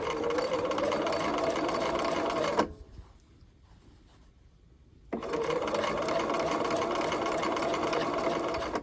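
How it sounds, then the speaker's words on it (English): A sewing machine runs a fast steady stitch along the seam of an A-line dress, stops for a couple of seconds of near silence, then starts again in an even backstitching run. "I am just going to backstitch that a little bit to make sure that holds in place."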